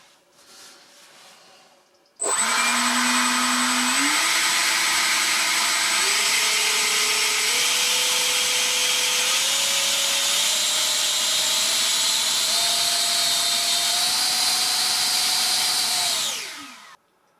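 A model jet motor spools up from idle to a loud, steady roar, its whine climbing in clear steps for about fourteen seconds before cutting off and winding down.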